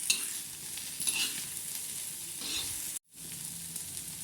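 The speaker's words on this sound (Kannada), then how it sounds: "ಚೆನ್ನಾಗಿ ಮಿಕ್ಸ್ ಮಾಡಿ ಫ್ರೈ ಮಾಡ್ತಾನೇ ಇದ್ದಾರೆ." Bitter gourd palya with fresh coconut sizzles and fries in a pan as it is stirred, making a steady crackle with scraping strokes and one brief silent break near the end.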